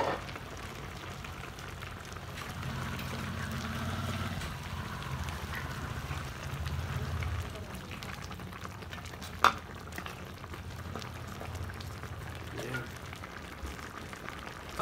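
Chopped banana blossom cooks in a pan, with a soft, continuous simmer and stirring scrape that hold steady, plus one brief sharp clink partway through.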